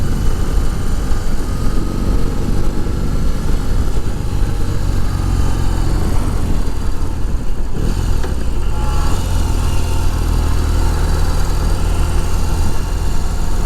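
A BMW cruiser motorcycle engine rumbles steadily while riding, with a continuous loud low drone and wind noise throughout and a brief dip partway through.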